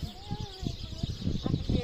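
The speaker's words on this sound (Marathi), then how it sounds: "चिमण्या कशा चिलमिल करतायत." Sparrows chirp on a village morning at a house in Sakhalgaon, with short, faint, scattered calls mixed with background voices and other village sounds.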